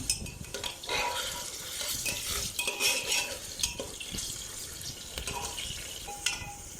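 Sliced onions frying in a pan until golden brown for biryani, with a steady sizzle broken by repeated scraping and stirring of a spoon against the pan, close and moderately loud, no voices.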